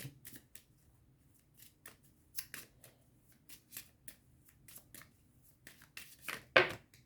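Tarot cards being shuffled and drawn close by: soft, crisp riffles and quick papery flicks in an irregular run, quiet and with no speech.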